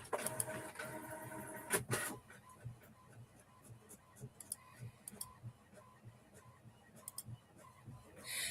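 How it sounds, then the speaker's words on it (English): A home printer running a quick print job, a loud whirring burst at first followed by rapid mechanical ticks and clicks of varying strength. "And my printer's really quick, guys."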